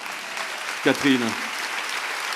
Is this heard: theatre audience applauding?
yes